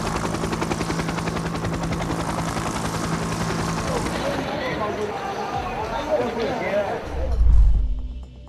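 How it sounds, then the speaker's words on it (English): A news helicopter goes down during an attempted emergency landing at São Paulo's Jockey Club, its steady rotor chop thick and loud for several seconds before breaking into chaotic noise and a deep low thump near the end. "Brazilian TV network's helicopter crashes after attempting an emergency landing in Sao Paulo's Jockey Club"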